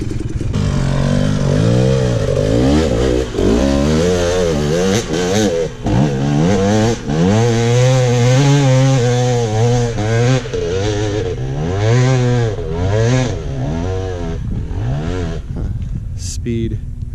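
A KTM 300xc two-stroke dirt bike on Sycamore Creek at Fort McDowell, Arizona revs hard and repeatedly while climbing a creek line, the engine loud and near with rising and falling pitch, someone talking over it.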